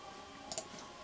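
A mechanical keyboard with blue switches gives two quick, crisp clicks close by, faint and brief against a quiet background.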